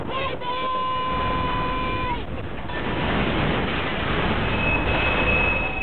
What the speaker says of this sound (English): Well, that's one way to hijack a train.